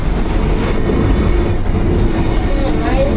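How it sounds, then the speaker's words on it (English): A train rumbles steadily past at close range, a loud continuous rolling roar with rail clatter that fills the whole stretch. "Oh, train. Another train."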